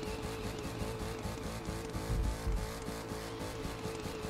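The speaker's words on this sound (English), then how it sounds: "they do burnouts pretty good" A car does a burnout in the video game The Crew 2, a dense roaring engine with tire squeal and rhythmic pulsing, steady and fairly loud throughout, with no talking.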